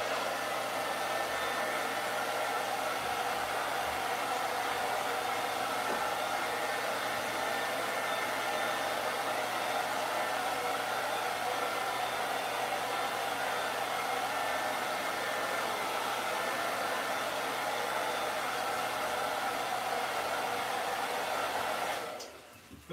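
A hair dryer blows steadily on a silkscreen mesh, a loud continuous broadband whoosh held close for about twenty-two seconds before cutting off abruptly at the end.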